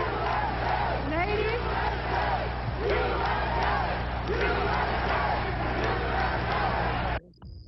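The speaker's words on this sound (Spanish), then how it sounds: "Los abucheos y gritos de USA antecedieron su discurso." A large crowd at the Republican National Convention fills the hall with loud, continuous booing and rhythmic chanting of USA, a dense roar that holds steady for several seconds before cutting off abruptly.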